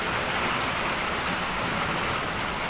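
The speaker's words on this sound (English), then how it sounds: "The rain is comfy. Well, it sounds terrible on my side. I literally cannot hear my voice. It is so loud here." Heavy rain pours steadily onto a tin roof during a hurricane, a loud, dense, unbroken roar of drops with no voices over it.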